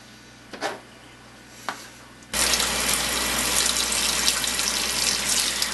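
Water from a kitchen tap rushes suddenly and keeps gushing steadily and loudly into a sink to rinse homebrewing gear for an all-malt Irish stout, after a few quiet clunks.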